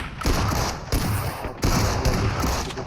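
Sustained bursts of video game gunfire from a Plant Threat mode, with rapid overlapping shots forming dense fusillades that briefly pause between volleys, loud and close with no talking.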